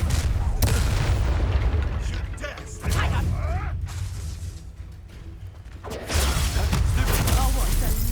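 Loud, dense spell blasts and explosions from the Hogwarts Legacy video game roar in heavy bursts with whooshing swells, easing briefly in the middle before surging again.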